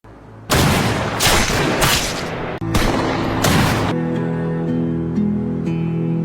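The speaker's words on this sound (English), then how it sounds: "and a gunfight broke out." A film gunfight: loud bursts of rapid gunfire come in several close volleys with brief gaps, then give way to a quieter droning score.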